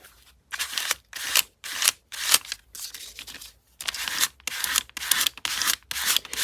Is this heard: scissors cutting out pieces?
yes